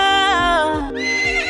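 A horse whinnies loudly and close, one long high neigh with a wavering pitch that breaks into a second call, set in a comic workshop fail scene with no talk over it.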